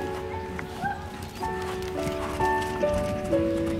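Horse hooves thud softly and rhythmically on soft arena ground, close by, while a voice speaks in French over them and faint tonal sounds drift in the background.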